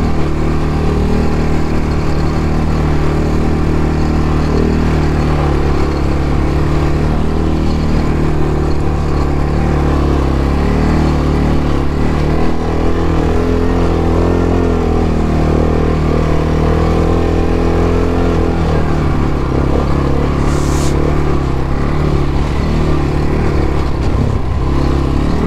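A tuned scooter with an upgraded variator, clutch kit and delimited 34-39 hp power runs steadily and loud throughout, its droning engine note holding near constant with a brief higher whine near the end.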